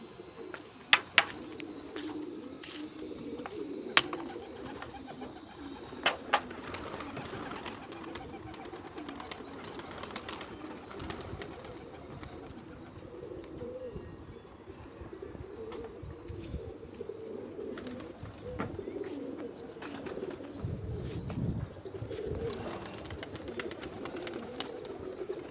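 Pigeons coo steadily through a loft as they are shut into their enclosure, a low continuous chorus of overlapping calls with occasional sharp wing flaps and clatters, fairly close and unbroken by talk.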